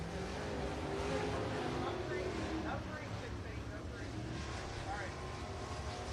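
A hobby stock race car circles a dirt speedway during hot-lap qualifying, its engine a steady broad roar rising and falling in the distance, mixed with crowd ambience and an announcer's voice.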